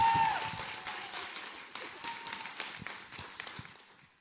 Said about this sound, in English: let's just give a round of applause for everybody else that helped out